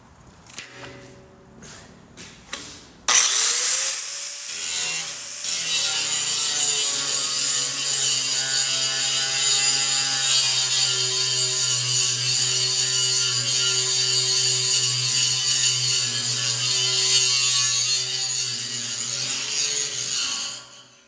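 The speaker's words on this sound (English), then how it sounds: "Okay, that's the grinder." Angle grinder disc scouring rust off a steel welding table, a loud continuous whining grind that starts abruptly after a few quiet seconds and holds steadily close up for about eighteen seconds, with no talking.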